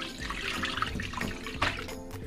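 Rice grains being rinsed by hand in water to wash off starch for chicken biryani, a steady wet sloshing and trickling that runs throughout at moderate loudness with no talk.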